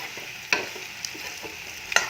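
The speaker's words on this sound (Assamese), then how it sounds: "এয়া মাংসখিনি ভাজি ল'লোঁ ভালদৰে" Pork frying in a pan over a medium flame, a soft steady sizzle with a few sharp stirring scrapes and clinks rising above it.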